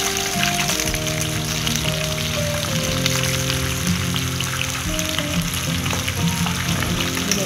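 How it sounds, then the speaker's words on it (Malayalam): Chicken pieces coated KFC-style deep-frying in hot oil, a loud, dense, continuous bubbling sizzle throughout with a steady low hum underneath and no voices. "ബാക്കിയുള്ളതും കൂടി നമുക്ക് ഒന്നുകൂടി ഫ്രൈ ചെയ്തെടുക്കാം"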